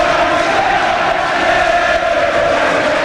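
A boxing crowd roars steadily for Andy Till on his home ground during his fight with Wally Swift, a dense, sustained wall of cheering voices throughout.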